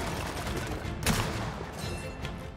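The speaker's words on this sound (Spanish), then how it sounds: "Están disparando desde el lado." Gunfire coming from the side in the Gears of War 4 campaign, a dense rattle of rapid shots with a sharper burst in the middle, continuous throughout.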